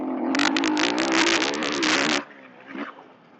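A 2026 Husqvarna FE501 dirt bike with a quiet exhaust drones and crackles at high revs for about two seconds, then cuts off abruptly, leaving a faint burst afterward.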